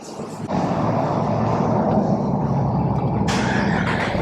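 A Jeep engine runs in gear with a loud, steady, close droning roar that continues without a break, with a brief shift in its tone partway through.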